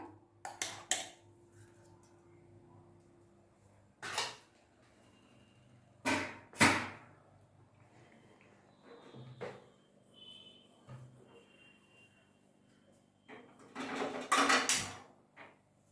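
Pots, pans and utensils clatter in a quiet kitchen while tempering is prepared, with a few separate sharp knocks and clanks spread out over time and near-silence between them.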